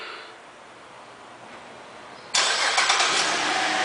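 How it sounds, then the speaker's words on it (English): A 2008 Buick Enclave CXL engine starts by remote start: quiet low hiss for about two seconds, then a sudden loud crank and catch that settles into a steady, fairly close idle. "One of the many options in this vehicle is a remote start"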